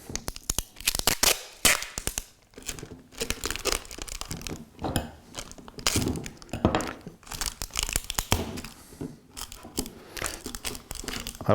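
Duct tape rips and crinkles in repeated bursts, with sticky peeling and crumpling sounds close up, continuing throughout, while building an Asian hornet trap.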